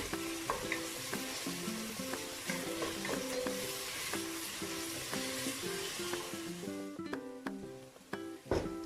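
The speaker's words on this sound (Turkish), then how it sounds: "Kıymalı harcımı güzelce kavurdum arkadaşlar." Minced meat mixture with peppers and onion fries in a pan, a continuous moderate sizzle under repeated rhythmic scraping strokes of stirring that thin out toward the end, leaving a few sharper clinks.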